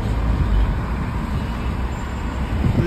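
Morning traffic jam at a village crossroads: a steady low rumble of idling cars, trucks and buses fills the air, with a faint air-brake hiss and no clear voices.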